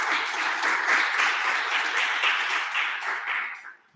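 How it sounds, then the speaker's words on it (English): A room full of audience members applauds after a presentation, a warm, steady wash of clapping held for a few seconds before fading quickly at the close. "please everybody give him a very warm applause."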